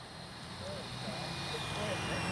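A small FMS 64mm Futura RC electric ducted-fan jet on landing approach, heard as a steady, high-pitched fan whine over broad airy rush that holds at an even, moderate level without pause; voices murmur faintly underneath.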